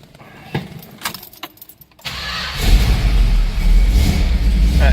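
Keys jangle and click close by, then a 1970 Dodge Challenger RT with a 383 Magnum V8 cranks and fires, settling into a loud, deep, steady rumbling idle.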